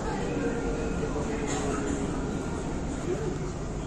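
A Dubai tram rolls along toward Dubai Marina, a steady close interior hum and rumble throughout, with people talking faintly under it.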